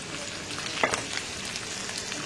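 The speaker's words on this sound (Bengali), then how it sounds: "একটু হালকা ভাজা হলে ওর মধ্যে আমি পেঁয়াজ কুচি অ্যাড করলাম।" Capsicum and chopped onion lightly frying in a pan, a soft continuous sizzle with faint crackles and a brief stirring scrape, no voices.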